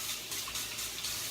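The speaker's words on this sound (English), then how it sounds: "Let me just wash my hands." A tap runs steadily as hands are washed under it, a soft, continuous splashing stream with faint fluctuations from the moving hands, heard close and alone.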